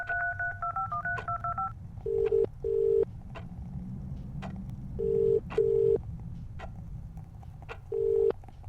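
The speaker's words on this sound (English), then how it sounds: "Pass me the phone, Jean. I have a call to make." A telephone being dialed, its DTMF keypad tones sounding as a series of short, evenly spaced beeps in small clusters, clear and close, following a brief ringing tone at the start, with no talking.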